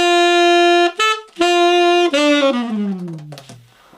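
Solo tenor saxophone playing a phrase from the pop song Waiting for a Star to Fall: clear sustained notes separated by short breaths, then a final tone that slides downward and fades, alone and close.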